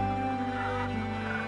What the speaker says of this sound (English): hundreds of geese with brown and white bodies and black heads swim in the lagoon